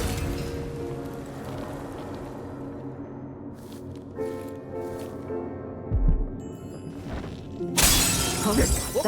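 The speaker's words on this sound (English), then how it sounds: "That sounded like broken glass." Glass shatters in the stealth game Dishonored 2, a loud bright crash near the end following a shorter breaking burst midway, over low ambient game music and a tonal drone.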